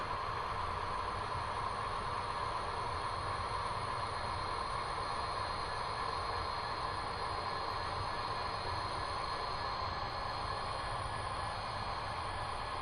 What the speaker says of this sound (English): we are going to have another SD70M, but paired with it this time will be a SD70N locomotive